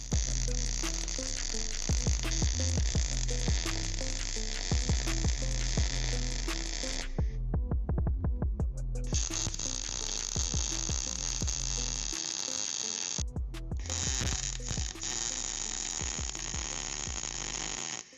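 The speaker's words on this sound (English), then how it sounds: "Once everything is tacked, I'm going to fully weld in all the joints." Welding the tacked joints of a metal frame: a harsh, buzzing, crackling arc holds steady in long runs, broken by two brief pauses, close and loud.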